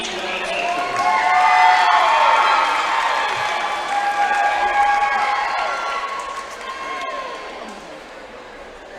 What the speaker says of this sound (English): Let's get one more round of applause for these ICC Palm Squad sophomores.